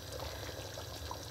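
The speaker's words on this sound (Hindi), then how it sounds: "और इसमें मैं डालूंगी थोड़ा सा लेमन जूस, 1 अदद लीमू का रस" Lemon juice pours briefly and softly into a bowl of yogurt-marinated chicken, a quiet wet splash lasting just over a second.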